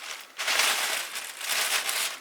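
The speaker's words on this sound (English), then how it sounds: "So you wrap this in tissue paper." Yellow tissue paper crinkles and rustles in close bursts as it is wrapped around a large lightsaber build piece, a soft, dry crackle with a brief pause between two handlings.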